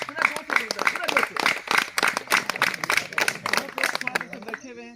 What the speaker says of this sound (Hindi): हम लोग सर जोरदार वाला ताली बजाते हैं सर